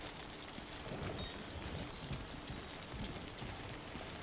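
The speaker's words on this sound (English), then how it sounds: "We want to go towards where the rain is getting heavier," Steady rain in the video game Death Stranding 2, a soft, continuous hiss of falling drops, faint and even throughout with no talking.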